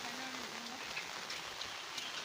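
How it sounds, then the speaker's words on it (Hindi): Quiet, steady rain patters while people head out toward a river, an even soft wash of drops with a faint tonal hum near the start. "बारिश में हम लोग जा रहे हैं"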